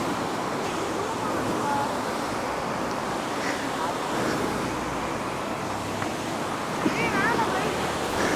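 Meenvellam waterfall in Kerala pours in a steady, broad rush of flowing water, continuous and fairly loud, with faint bits of voices and wind underneath.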